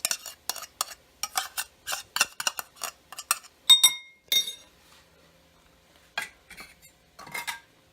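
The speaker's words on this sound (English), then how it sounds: "get all your clams out of there and put them into the bowl" A metal spoon clinks and scrapes against a bowl while cooked clams are scooped in for clam chowder, a run of sharp, close taps and clinks, then a quiet pause before a few more scoops.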